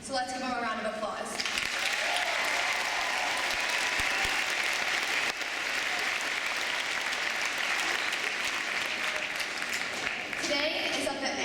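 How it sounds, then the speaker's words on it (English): A large indoor audience at a high school graduation ceremony breaks into loud, sustained applause lasting several seconds, with a voice briefly heard at the start and end. "So let's give him a round of applause."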